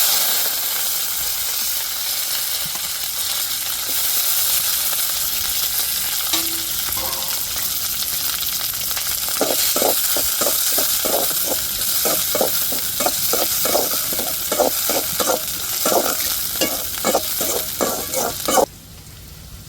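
Fennel seeds, onion and curry leaves crackle in a pan with a constant loud hiss. Midway it shifts into a long, even series of rhythmic spoon scrapes that stops abruptly near the end.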